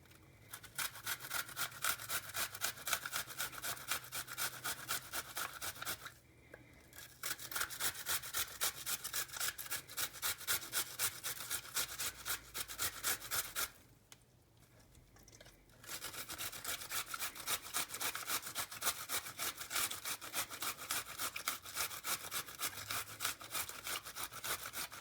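A raw onion rubbed against a hand grater in a kitchen makes a steady, rapid rasping scrape, close and continuous, with two short pauses between runs.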